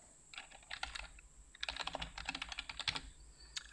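Someone types a search term on a computer keyboard in quick, close bursts of key clicks with short pauses between them, clear against a quiet room.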